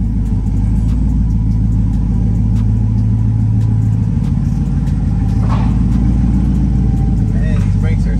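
A 2022 Corvette rumbling on its first drive after parts were repainted, its engine a loud, close, continuous low drone with a slight rise in revs, while people talk over it inside the car.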